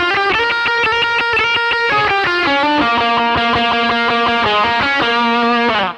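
An overdriven electric guitar plays a quick single-note riff, loud and continuous, with distorted tone and a rhythmic, bouncy pattern.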